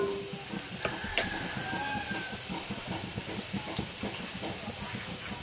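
Garlic frying in a pan, browning before onion goes in, gives a steady close sizzle with crackling hiss and a few scraping stirs throughout.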